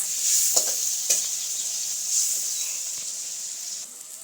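Stuffed gunda vegetable mixture with tomato puree in a cooking pan, sizzling steadily with a few soft scrapes from stirring, close and fairly loud with no talk.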